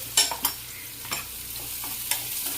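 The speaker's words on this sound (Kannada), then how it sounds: "ಆನಿಯನ್ ಬಂದು ಚೆನ್ನಾಗಿ ಆಯಿಲಲ್ಲಿ ಫ್ರೈ ಆಗಬೇಕು." Onions fry in hot oil on a low gas flame, a soft steady sizzle under a few sharp spoon clinks and scrapes against the pan, close by and with no talking.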